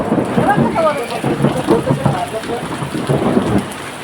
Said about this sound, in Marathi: एवढा जोरात पाऊस आमच्याकडे एवढा जोरात पाऊस पडतोय